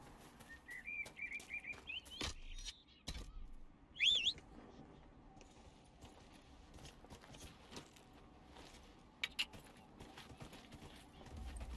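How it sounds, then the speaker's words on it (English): Horse hooves clip-clop in the Dragon Age: Inquisition video game, scattered sharp clacks amid faint game ambience, a couple of brief whistling bird-like calls and quiet background sounds. "the horse appearing right behind you"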